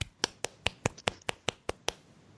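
Foley clapping: about ten sharp, isolated hand claps in a steady rhythm roughly every fifth of a second, close and crisp against a quiet background, one performer rather than a crowd.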